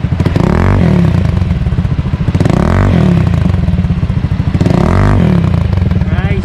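A motorcycle fitted with an aftermarket exhaust and silencer idles and revs in repeated blips, loud and close, with people talking over it.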